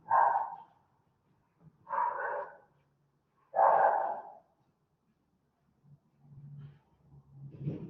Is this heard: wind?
no